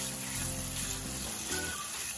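Sliced ground pork patties sizzle in a pan with a steady, dense hiss, fairly close and continuous, with no voices.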